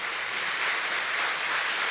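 A church congregation applauding to welcome and encourage a young man during a worship service, a dense, steady wash of many hands clapping throughout, fairly loud and even with no voices standing out.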